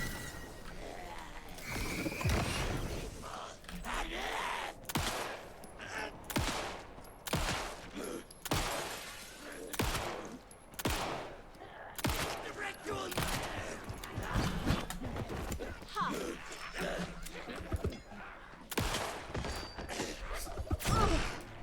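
Pistol shots in Alan Wake 2 crack out repeatedly, a long series of sharp, fairly close reports at uneven intervals, some in quick pairs, over a dark ambient game backdrop.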